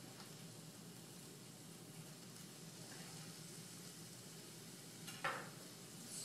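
Chopped tomatoes and vegetables stirred in a pan for spicy pinto beans, giving a faint, steady sizzle with a brief scrape of the spoon near the end.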